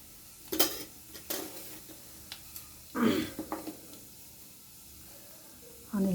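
Half a spoon of cumin seeds hits hot oil in a pan for an okra (bhendi) stir-fry, giving a few sharp clinks and a short burst of crackling sizzle that fades, with quiet gaps between.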